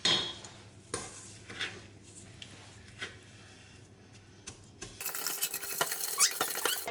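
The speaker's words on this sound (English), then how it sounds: "I'm just going to take a wooden spoon, give this a quick stir, and then this will start breaking down the bananas" A wooden spoon stirs sugar into mashed bananas for chocolate chip banana bread, making soft scraping and squelching strokes up close against the bowl. Rougher, louder scraping follows near the end.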